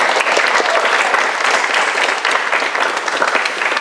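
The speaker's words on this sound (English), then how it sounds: "let's give ourselves a round of applause" Loud, dense applause from a campus audience at a book reading event, continuous many-handed clapping that stays full and steady throughout with no voices standing out.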